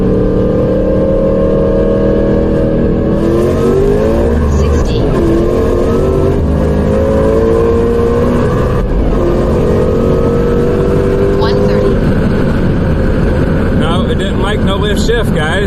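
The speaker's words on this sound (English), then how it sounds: "I'm gonna try to do a no lift shift and see how that treats me." A Whipple supercharged 2024 Ford Mustang S650 accelerating hard with a no-lift shift, loud close engine roar climbing in pitch, with brief stumbles at the shifts and wind buffeting; a voice talks over it.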